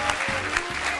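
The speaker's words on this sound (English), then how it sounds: "The crowd goes wild." A crowd at a comedy podcast taping claps and cheers in a brief dense burst of steady applause.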